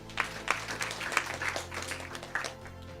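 Audience applause at a live high-ticket sales role-play training event, a steady patter of clapping with sharper bursts, carried over a low sustained musical hum.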